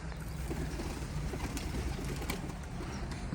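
Pigeons released in a flock at a Turkish pigeon-keeping outing, with broadband fluttering and soft cooing over steady outdoor noise, fairly loud and continuous.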